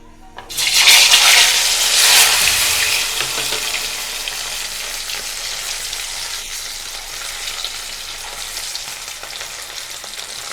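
Potato pieces for dam aloo drop into hot oil with a loud burst of sizzling that settles into a steady, close frying hiss, with no talking.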